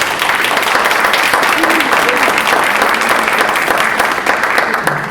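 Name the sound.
audience applause for the panelists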